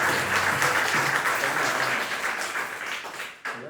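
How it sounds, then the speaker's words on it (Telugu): An audience at a church anniversary worship service claps in a dense, sustained round of applause. The clapping dips briefly near the end, then picks back up. "చప్పట్లు కొడదామని ఉండదు మీకు."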